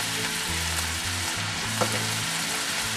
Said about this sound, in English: make sure that your ground beef gets nice and brown